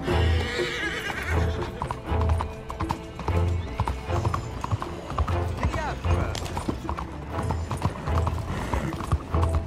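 Horse in the Red Dead Redemption 2 video game galloping with rhythmic, loud hoofbeats and a whinny, accompanied by game effects and voices speaking over it.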